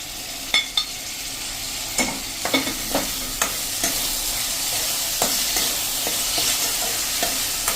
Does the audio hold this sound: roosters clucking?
no